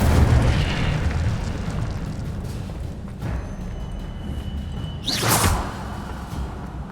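Incendio fire spell in Hogwarts Legacy, a rumbling fiery blast that fades into crackling flame, followed by a sharp bright whoosh near the end.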